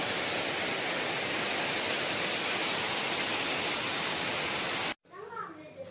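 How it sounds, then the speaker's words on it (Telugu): Heavy storm rain pours down nonstop as a dense, loud roar with water running off steps, cutting off abruptly near the end, where a voice begins speaking. "వర్షం అయితే పెరుగుతూ ఉంది"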